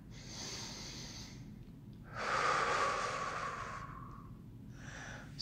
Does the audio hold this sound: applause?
no